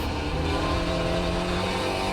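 A Spec Racer Ford race car engine drones at Phillip Island in the racing game iRacing, a steady, buzzy, harmonic-rich engine note held on throttle, loud and close with no talk.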